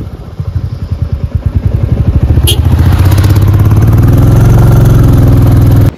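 A motorcycle climbs a hill road on the ride from Siliguri toward Darjeeling, its engine close and loud, thumping rapidly and building into a steady revving drone.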